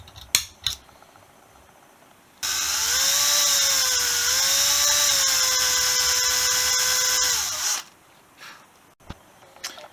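A power drill bores a 2.5mm pilot hole in a part of a GY6 Chinese scooter, a loud steady whine running about five seconds with slight pitch shifts, framed by handling knocks before and after.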